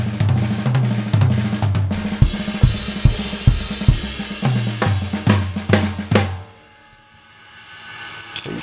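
Drum kit groove blending a steady beat with double stroke rolls, loud and close with repeated sharp hits and low kick thumps, running about six seconds before cutting off into near silence.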